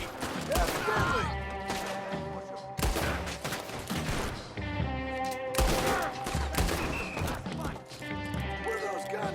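Gunfire crackles through a Red Dead Redemption 2 shootout, dense overlapping shots and bursts repeating across the whole stretch amid clatter and voices, loud and close throughout.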